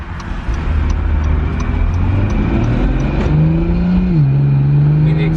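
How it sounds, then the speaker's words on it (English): An Acura NSX exhaust in launch mode rumbles loudly from inside the car, its droning note climbing in pitch as the car accelerates. "Inside the car, the exhaust sounds way better than it does outside the car."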